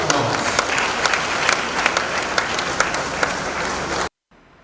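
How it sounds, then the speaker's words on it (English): A church audience applauds at a dedication Mass, dense sustained clapping filling the hall before cutting off abruptly near the end. "let us give them a resounding applause"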